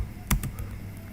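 Typing on a computer keyboard: a few quick, close keystroke clicks, the first loudest, in a brief quiet burst.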